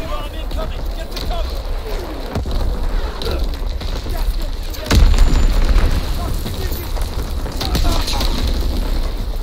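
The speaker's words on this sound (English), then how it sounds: "Incoming enemy artillery." Artillery shells and explosions in the World War II shooter game Call of Duty WW2 land as steady, heavy booms under battlefield noise and shouted voices, with a louder blast about halfway through.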